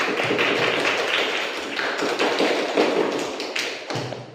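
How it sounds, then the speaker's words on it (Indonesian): Applause from a classroom group of teachers congratulating a team after a poster-making session, a dense, even patter of hand claps that stays fairly loud and fades slightly toward the end. "Kasih aplaus untuk kelompok 5"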